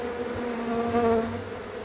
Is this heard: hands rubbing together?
no